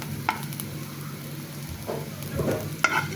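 Bitter gourd seeds frying in a pan, a close low sizzle with occasional stirring scrapes and a sharp clack near the end, no talking.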